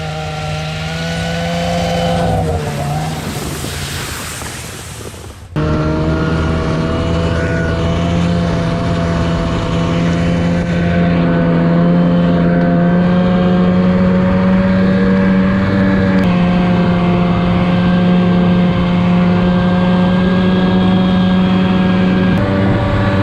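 A pickup truck driving along a logging road drones steadily with a loud, close engine hum, a brief rougher shift early on, then an even sustained tone throughout.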